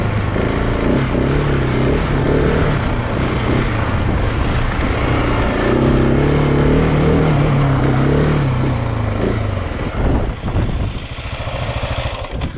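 KTM 701 Enduro motorcycle ridden on a dirt trail with the rear tyre breaking loose in turns, a loud continuous engine drone rising and falling with throttle and wind rush, easing off near the end.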